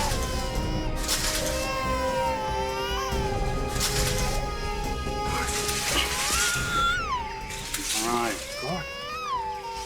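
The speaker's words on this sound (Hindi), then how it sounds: "उस तरफ से बच्चे के रोने की आवाज आ रही है।" Wailing, rising and falling cries like an infant's repeat from a dark forest at night over a steady sizzling background, with a voice talking in places.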